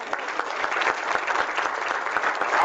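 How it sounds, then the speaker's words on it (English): An audience at a lecture on the global African presence applauds the poet, a dense and lively round of clapping with distinct individual claps heard close by, steady throughout. "how about another big round of applause for our poet?"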